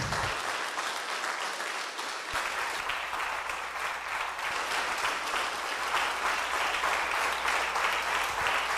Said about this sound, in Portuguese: Aplauda bem forte a Jesus Cristo.